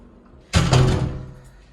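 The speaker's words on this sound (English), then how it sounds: "So this is the entrance door and we are going to enter the room." Entrance door of a villa suite room in Ubud swinging open: a sudden loud thunk of the latch and door, then a sustained rumbling swish that fades over a second, with no talk.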